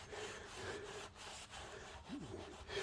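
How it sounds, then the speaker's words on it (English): A stiff-handled brush scrubs the barrel of a car wheel in quick back-and-forth rasping strokes, close and fairly quiet, with a brief squeak partway through. "it's just got a stiff handle and it just allows me to scrub a bit more"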